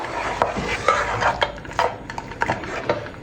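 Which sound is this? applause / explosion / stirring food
stirring food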